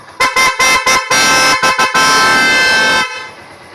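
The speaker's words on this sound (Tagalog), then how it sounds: "Nagkaroon pa ng busina." Horn of an RKS 150 motorcycle honked close and loud in a rapid series of short toots, then one long sustained blast before cutting off.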